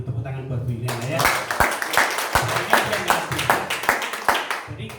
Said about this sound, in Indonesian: Tepuk tangan buat Bu Yuliana ya